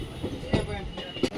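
A Vasco da Gama Express train at Warangal Junction railway station rumbles along, with a low rolling drone and a couple of sharp wheel clanks over a short stretch.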